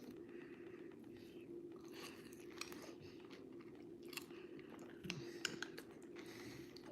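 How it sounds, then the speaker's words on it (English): Crème brûlée with a caramelized sugar top being eaten, soft crunching and chewing bites close up over a steady low background hum, with a few sharper crunches near the end. "Moment of truth, the taste test."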